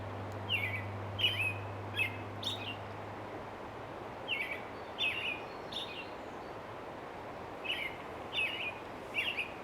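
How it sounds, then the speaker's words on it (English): A Pacific wren calls in a melting spring canyon, its high, rapid twittering bursts repeating in clusters at moderate distance over a steady hiss of flowing water. "There was a Pacific wren calling"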